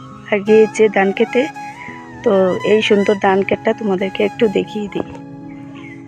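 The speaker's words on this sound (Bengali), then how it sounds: "সকাল সকাল ভিডিও করছি বলে এই পাখির ডাকগুলো শুনতে পাচ্ছ" Rooster and chicken calls ring out on a village morning beside ripening rice fields, partly masked by someone talking steadily over them.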